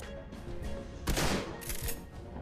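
Gunfire in the video game Shadowrun: Hong Kong, a burst of rapid shots with one loud blast near the middle followed by a few more shots over game background sound.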